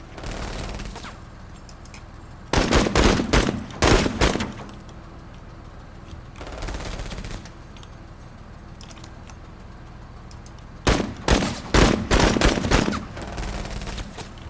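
Sustained automatic gunfire in the video game MENACE on a desert planet, three long rapid bursts separated by a shorter burst and quieter gaps, loud and sharp.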